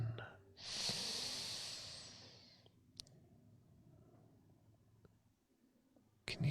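A slow, deep in-breath taken close to the microphone in a calm ASMR setting, a soft breathy hiss lasting about two seconds, followed by quiet stillness and small mouth clicks.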